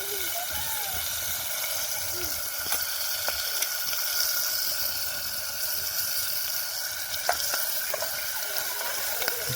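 Mustard seeds fry in a pan in a village kitchen, popping and crackling over a continuous sizzle, with a few sharp spatters throughout.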